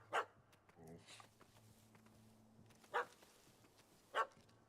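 Dog barking in The Witcher 3 video game, three short sharp barks spaced apart, the first at the start and two later, with a faint whimper and game ambience between them.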